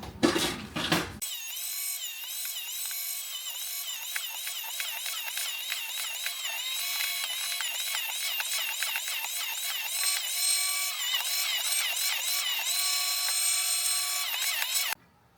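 Pork loin being sliced for meat crisps on an electric slicer, a steady high whirring and grinding machine drone that runs almost unbroken for about fourteen seconds after a brief knock, loud and close, with no talking.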